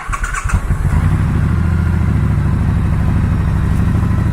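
A 2018 Triumph Bobber motorcycle engine turns over and settles into a loud, steady, throbbing idle with a deep pulsing exhaust note, recorded up close.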